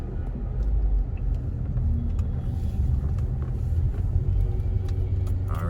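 A bread truck drives past on a busy street in Montego Bay, Jamaica, making a continuous low engine rumble and road noise at moderate loudness for several seconds, with no talk over it.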